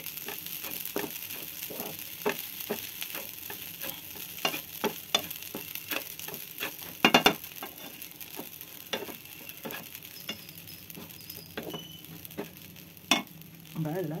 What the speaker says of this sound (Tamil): ஸ்டவ்வை கூட ஆஃப் பண்ணிவிட்டு கிளறிக்கலாம்.